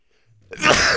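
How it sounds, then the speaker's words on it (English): A single sharp sneeze bursts out loud and close after a brief quiet intake, with no talking around it. "I'm going to sneeze."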